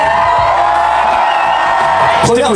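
A loud crowd cheers, whoops and shouts continuously at the GP Explorer motor race event, a dense close roar with voices rising above it.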